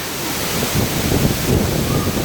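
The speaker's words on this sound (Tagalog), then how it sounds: "ang lakas ng hangin" Strong wind roars as a constant broadband rush beside a waterfall, with the water's steady wash blended in, loud and close to the microphone.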